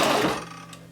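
A sewing machine stitches the facing of a duster coat, a brief steady motor whir that fades slightly toward the end, heard alone at close range.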